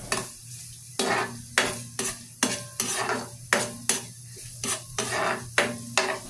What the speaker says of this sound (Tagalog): unahin lang muna natin itong bawang. Iprito lang natin to hanggang sa maging crispy o yung golden brown